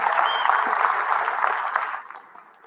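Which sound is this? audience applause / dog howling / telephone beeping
audience applause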